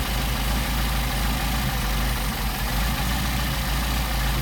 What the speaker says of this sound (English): we're going to increase our idle on both of these carburetors